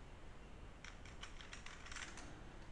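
Computer keyboard typing in short bursts of close, crisp keystrokes that start partway through, over a steady low background hum, with no voices.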